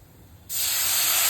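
Water poured onto sautéed rice in a hot pan bursts into a loud, steady hiss after a moment of quiet and keeps hissing strongly to the end.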